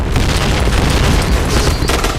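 A loud, booming grenade explosion in a first-person shooter game, a continuous roaring blast with rumbling low end filling the whole moment.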